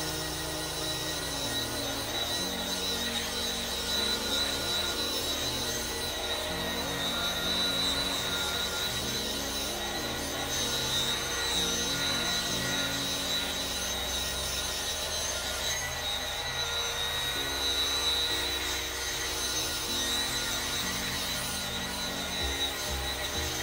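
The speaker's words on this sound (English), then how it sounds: "this is where we want to keep buffing until it gets really nice and shiny here" A car headlight lens is buffed with a power tool, giving a continuous, loud whirring drone with a high steady whine and shifting low tones throughout.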